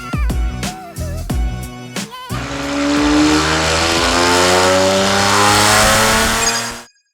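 A Porsche Cayenne S with a Veleno titanium catback exhaust and catted downpipe snaps through several sharp, loud revs, then holds one long rising wail before cutting off abruptly.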